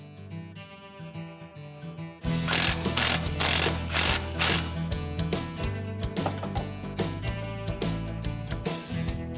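Rapid ratchet clicking while bolts are tightened on a conversion plate, a close mechanical rattle that starts after a quieter lead-in and continues in bursts, with music playing underneath.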